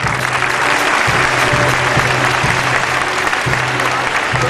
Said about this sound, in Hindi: प्रेज़ द लॉर्ड, ताली बजाइए प्रभु के लिए।